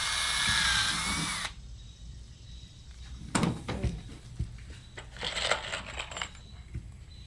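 A power drill drives a screw into a plastic skeleton's arm, a loud steady whir for the first second and a half, then fainter thunks, clicks and handling knocks.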